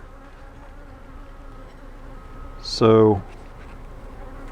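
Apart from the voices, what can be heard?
honey bees buzzing at hive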